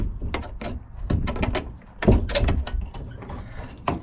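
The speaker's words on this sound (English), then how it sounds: "Close that door behind me so none of these dummies decide to run off." A chicken coop door swings shut with a rattle and knock of wood and latch, amid a few scattered clunks and scrapes over several seconds.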